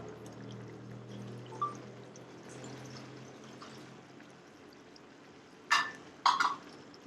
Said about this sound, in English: We'll just put some water.